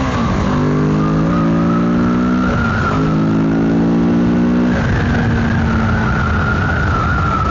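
A motorcycle accelerates hard through traffic in Liverpool, its engine note climbing steeply through two gear pulls before settling into a steady drone, loud and close with rushing wind noise throughout.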